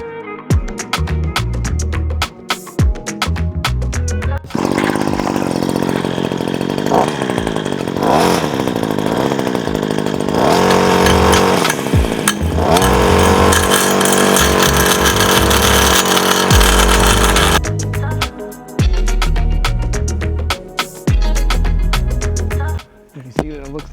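A Wild Badger 26cc gas-powered string trimmer edges a driveway, roaring loud and close at high revs through the middle of the clip, with idling, rattling stretches before and after.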